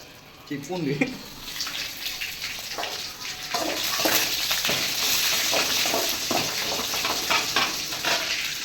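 Curry leaves, crushed ginger and garlic frying in hot oil for an anchovy curry make a loud, steady sizzle that swells partway through, with light stirring clatter close by.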